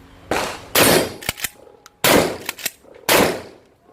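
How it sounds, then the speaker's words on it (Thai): Three loud, sharp shotgun blasts from an NTS Commando pump-action shotgun with an 8.6-inch barrel and a swapped stock, spaced about a second apart, with quick metallic clacks of the pump between shots. "ผู้ยิงพร้อม เริ่มยิง"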